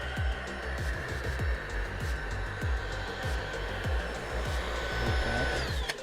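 A Tineco A10 Dash cordless vacuum cleaner runs with a steady high-pitched motor whine, close and loud, punctuated by repeated knocks and thumps as it is moved around.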